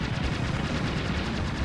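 Rapid gunfire from a fighter plane in the arcade shooter Aero Fighters, a loud, fast, steady stream of repeating shots with dull booming underneath, continuous and without speech.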